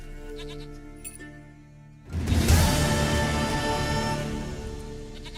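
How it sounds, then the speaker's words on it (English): A goat in The Witcher video game lets out a loud, wavering bleat that starts abruptly after a quieter stretch and carries on for several seconds over a low ambient background. "Goat of mine, dearest, sweetest goat."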